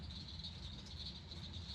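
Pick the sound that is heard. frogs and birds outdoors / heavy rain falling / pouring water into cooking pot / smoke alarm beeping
frogs and birds outdoors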